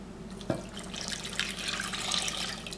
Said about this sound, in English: And then I'm going to put some water in.